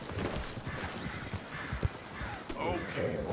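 Horse hooves clip-clop at a steady trot in the video game Red Dead Redemption 2, close and rhythmic, mixed with game ambience and some brief talk.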